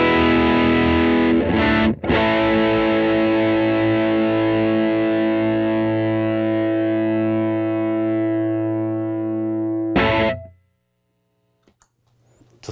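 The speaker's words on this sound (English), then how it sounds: "this is what the Plume sounds like with all knobs at noon" An electric guitar played through an EarthQuaker Devices Plumes overdrive pedal with all knobs at noon rings out in loud, sustained distorted chords, briefly choked once, then cut off into near silence.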